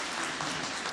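A lecture-hall audience at an architecture talk applauds in a brief, soft, continuous patter of clapping heard from a distance, with no voices.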